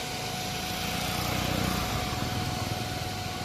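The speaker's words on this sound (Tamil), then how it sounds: "ரேடியேட்டர் ஃபேன் தான் சவுண்டுன்னு நினைக்கிறேன்." A motorcycle radiator fan runs with a constant, dense whirring drone and a faint steady whine at close range, with no voices.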